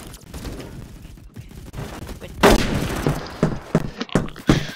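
Gunfire from the Roblox game Phantom Forces comes as a burst of rapid, dense shots and booms, loud and close in a busy game mix.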